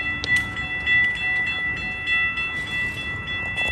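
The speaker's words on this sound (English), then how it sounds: "Here comes the train. Here comes the choo-choo. This is the Metrolink." A Metrolink commuter train pulls into a station, with a loud rumbling rail roar, steady high tonal squeal and clanking, heard close and alone.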